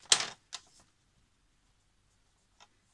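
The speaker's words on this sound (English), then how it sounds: "I'm gonna make just one score line from the original fold" A fold line is scored into recycled paper on a scoring board: a quick, crisp scrape is followed by a couple of short, faint taps in an otherwise quiet room.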